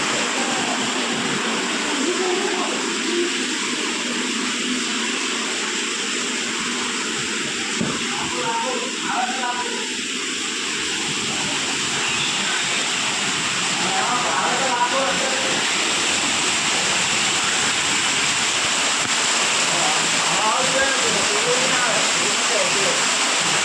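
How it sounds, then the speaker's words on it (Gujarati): Heavy rain pours down in a windstorm, a loud, continuous broadband roar of falling water and gusting wind that holds steady throughout, close and dense like a waterfall. "વાવાઝોડા સાથે વરસાદ પડી રહ્યો છે।"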